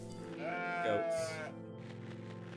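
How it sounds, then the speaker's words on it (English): Goats bleat in a video game, a single drawn-out wavering bleat with a second quick cry layered over steady background game music, moderately loud and clear, with no talking. "Oh, there's goats in my game."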